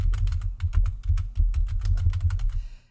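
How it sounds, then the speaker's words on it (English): Rapid, loud clatter of a noisy computer keyboard being typed on, a steady stream of close keystrokes with brief pauses, alone with no talking. "my keyboard is very noisy"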